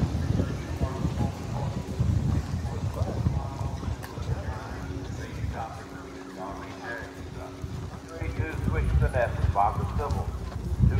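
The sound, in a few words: Tennessee Walking Horse hooves at horse show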